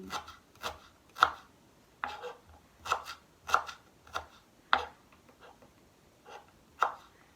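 A knife chops peeled ginger, onion and garlic on a cutting board in sharp, irregular taps, roughly one every half second, close and fairly quiet, with no talking.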